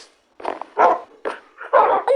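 Dog in Minecraft barking in a quick run of about five short, close barks and yips with brief gaps between them.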